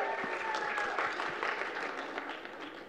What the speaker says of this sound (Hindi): एक एक बार जोरदार तालियां